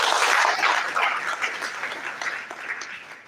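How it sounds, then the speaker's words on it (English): Audience applause fills a symposium hall on youth and national development: dense, steady clapping from many hands, loud at first and then easing a little while staying continuous, with no one speaking over it. "Let's give him a round of applause, please."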